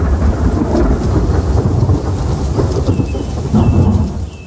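A summer thunderstorm in Turkey's wild countryside: steady heavy rain pours on surfaces while deep thunder rolls and rumbles throughout, loud and close, with no voices.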